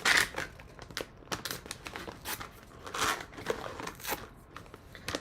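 Scissors snip and crinkle through the plastic seal of a bag of candle wax, close-up irregular crackling cuts and rustles without any speech.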